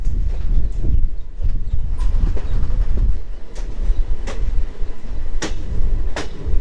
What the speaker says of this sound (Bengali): ফাইনালি ট্রেন একটুখানি স্পিডটা গিয়ার আপ করেছে আর কি।